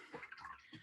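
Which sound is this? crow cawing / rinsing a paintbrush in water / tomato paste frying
rinsing a paintbrush in water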